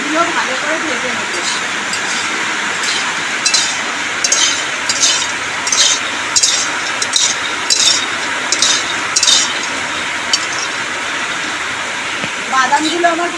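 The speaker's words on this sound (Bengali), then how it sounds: "এইভাবে অনবরত নেড়ে চেড়ে কিন্তু আমি বাদামগুলো ভালো করে ভেজে নেব।" Raw peanuts are stirred and dry-roasted in a pan, a continuous rustling hiss broken by regular scraping and rattling strokes close by, with a voice talking over it.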